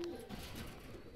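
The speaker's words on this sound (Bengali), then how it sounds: "ছেড়ে দেখাচ্ছি দুইটা কবুতর আমি" Two golden pigeons giving soft, low coos, faint and close, against a quiet background.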